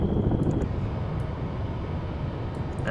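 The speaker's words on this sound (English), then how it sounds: "there's the helicopter" A helicopter in the submarine video game Cold Waters gives off a steady, moderate engine drone and rotor rumble. The sound is continuous, with faint chirps on top.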